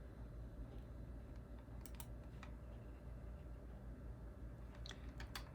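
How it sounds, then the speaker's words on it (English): Someone types on a computer keyboard in sparse, faint clicks, heard over a steady low hum with no talking. "typing around tripod is a challenge"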